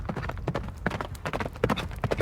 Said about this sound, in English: They rode so fast the donkeys left a swirling cloud of gray dust behind them.